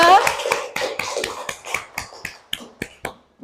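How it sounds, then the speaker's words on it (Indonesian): Children in a classroom clap their hands in a string of sharp, distinct claps, close and fairly loud, with voices chattering underneath. "Tepuk tangan buat kita semua."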